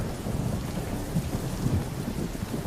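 Thunder rumbles loudly and continuously under steady heavy rain during a lightning storm in the video game Solarpunk, with no voices.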